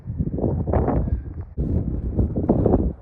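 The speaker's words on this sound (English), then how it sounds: "Windy up here too, as is often the case." Wind buffets a microphone in heavy low rumbling gusts that come and go, with a brief lull in the middle, high on a trail above the Salt Lake Valley.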